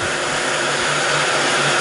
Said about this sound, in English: You can see the inside of that heat gun gets cherry red.